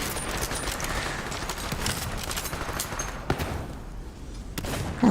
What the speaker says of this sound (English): I almost shot them again